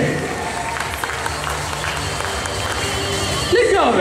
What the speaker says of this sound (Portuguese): Palmas pro Fábio de novo, gente.